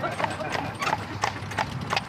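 Horse hooves clip-clop steadily as the animal pulls a three-wheeled wagon along a motor-free track through the Irish countryside, the regular clops close and clear while people talk over them.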